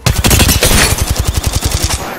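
Rapid automatic gunfire in the battle-royale game Apex Legends rattles out as a loud, close burst of evenly spaced shots, about a dozen per second, easing off toward the end.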